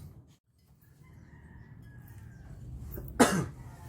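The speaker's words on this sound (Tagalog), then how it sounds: "Umubo pa ta." A single short cough from a person near the end, preceded by quiet room noise during a seminar on violence against women and children.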